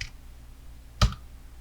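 A single sharp computer mouse click during video editing work in Premiere, close and distinct over a faint steady background hum.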